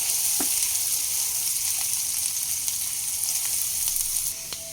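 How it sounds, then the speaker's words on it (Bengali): Garlic paste and green chillies fry in oil over a medium flame, giving a steady, close hiss of sizzling with a few faint clicks and no voices. "কাঁচা লঙ্কা আর রসুন বাটাটা দিয়ে আমি মিডিয়াম ফ্লেমে দুই মিনিট ভাজা হতে দেব"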